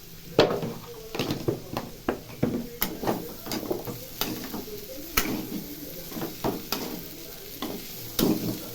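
Potatoes frying in a pan with chili powder being added, a steady sizzle broken by repeated scraping and stirring strokes, close and moderately loud with no talking.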